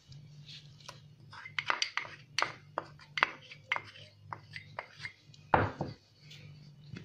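Dry flour, starch, sugar, yeast and salt being stirred together in a bowl for crispy zalabia dough, heard as a series of scraping, tapping spoon strokes at close range with a low background hum.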